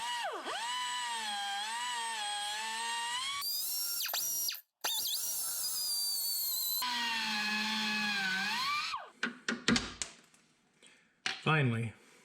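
A rotary cutting tool slices through a seized front sway bar link on a 2007-17 Jeep Compass or Patriot, whining loudly with changing pitch as it bites, then stopping into short bursts and quiet gaps.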